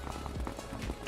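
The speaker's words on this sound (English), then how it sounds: "you hear all those footsteps?" Rapid running footsteps in the video game Farming Simulator 25 near a dock, a quick irregular patter of steps that stays faint and close throughout.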